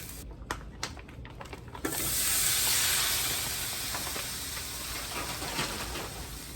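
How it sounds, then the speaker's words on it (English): Shrimp hit a hot pan and burst into a loud, steady sizzle that swells quickly and then holds as a bright, continuous frying hiss. A few soft knocks come just before it. "I'm gonna take this out and put my shrimp in, and then we're gonna go from there"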